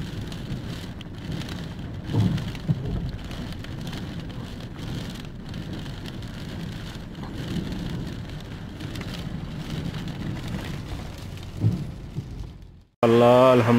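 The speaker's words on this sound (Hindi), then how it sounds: "कुमरा में बारिश हो रही है" Heavy rain pours down in Jeddah, Saudi Arabia in a constant loud hiss with scattered heavier splashes and low rumbles. It cuts off sharply near the end as a different loud sound takes over.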